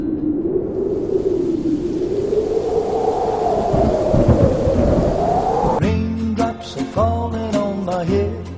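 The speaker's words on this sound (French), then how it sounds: "lorsque l'orage gronde" Deep rolling thunder from a thunderstorm rumbles loudly and steadily for several seconds, then gives way abruptly to a different, tonal sound.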